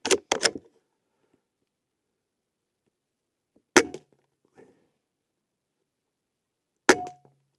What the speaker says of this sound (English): And then I want to see if I can shoot slugs with this.